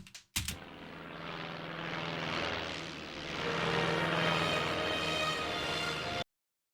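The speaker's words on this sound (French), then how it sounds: "Depuis quand un ptérodactyle fait des bruits de moteur?" A propeller airplane engine drones loudly and steadily as a sound effect for a cartoon pterodactyl, swelling slightly as if passing close, then cutting off abruptly.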